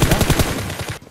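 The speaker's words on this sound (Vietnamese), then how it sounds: "Mặc dù nghe thấy tiếng đạn nổ như tiếng gọi là tiếng pháo hoa đêm 30 cháu ạ" Automatic gunfire in the PUBG Mobile video game, loud rapid bursts of shots in a quick rhythm that stop abruptly near the end, with no voices over it.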